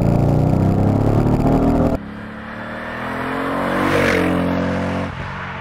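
A 2004 Mercedes SL55 AMG with a supercharged engine is heard first as a loud close roar, then revving and accelerating away with a rising whine and fading pitch, no voices.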